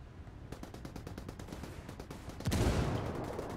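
A rapid automatic burst from a gun in the tactical shooter Ghost Recon Wildlands, steady rattling shots in quick rhythm that end in a heavier blast with a lingering rumble, fairly quiet in the mix.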